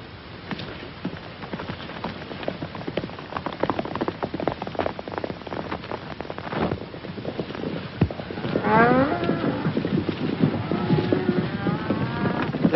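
Cattle moo in long, drawn-out calls over a constant hiss like steady rain, the lowing rising in the second half.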